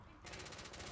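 Powerful gun firing in The Order: 1886, a rapid burst of loud close shots in quick succession starting abruptly after a brief quiet moment.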